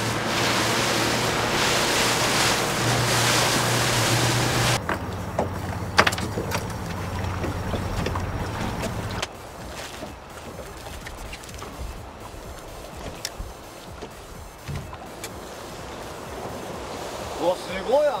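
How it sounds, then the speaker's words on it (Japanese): Choppy sea waves rush and break around a small fishing boat off Sasebo, Japan, at early morning during topwater fishing for black sea bream. The roar is loud and rolling with wind noise, and it drops in level partway through. "うわ、すごい、あの波が。"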